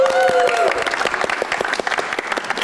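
A studio audience at a television show breaks into loud, sustained applause, clapping densely throughout as a brief tone sounds at the start.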